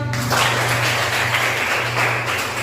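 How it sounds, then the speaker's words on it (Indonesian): Applause from a classroom of students, a continuous wash of many hands clapping at even loudness, with a low steady hum running beneath it. "Oke, tepuk tangan."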